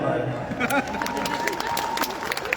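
Audience clapping fills a hall at the 2023 Dubai IBFA award show, a steady patter of hands beneath a voice talking over a loudspeaker.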